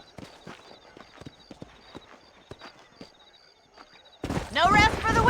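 Horses gallop in Red Dead Redemption with rapid, rhythmic hoofbeats clattering across open ground, moderately near, before a loud game voice cuts in near the end.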